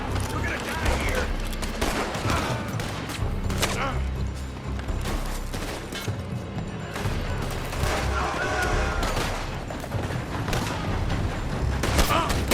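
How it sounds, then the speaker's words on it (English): Dense, continuous gunfire in Red Dead Redemption 2, rapid overlapping shots and booms filling the scene with a loud, chaotic barrage, with voices shouting underneath. "They're shooting from that building."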